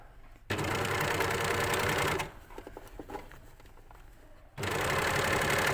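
A domestic sewing machine stitches an elasticised cuff in two loud, steady bursts of rapid whirring, separated by a quieter pause filled with handling clicks and fabric rustle.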